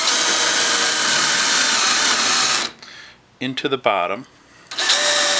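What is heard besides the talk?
drill with countersink bit countersinking holes in wood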